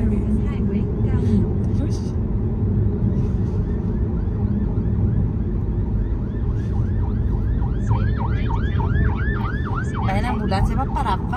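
Ambulance siren on a road in Guatemala, wailing in repeated rising and falling sweeps that grow louder and faster toward the end over traffic noise, with people talking over it.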